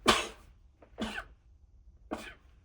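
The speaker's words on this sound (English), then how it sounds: "I'm gonna sneeze." Three sharp, explosive sneezes about a second apart from seasonal allergies, each a short breathy blast up close, with no talking between them.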